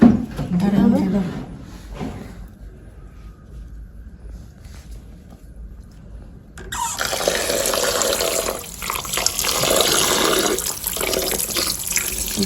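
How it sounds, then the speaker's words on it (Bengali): Grated ash gourd being washed in a village kitchen: steady running water pours and splashes, louder in the second half, with brief talking near the start. "এখন চাল কুমড়ো কুড়ানিটা ধুয়ে ধুয়ে নিচ্ছে দেখুন"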